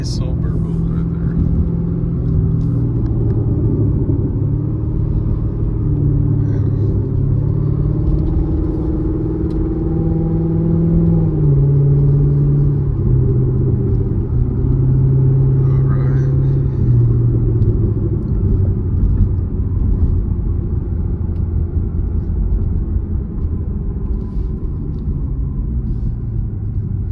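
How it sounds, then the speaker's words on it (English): Loud C7 Corvette exhaust burbling steadily while driving at night, a deep continuous rumble with shifting engine tones, close and sustained throughout. "This burble sounds so good. Nice old burble right there."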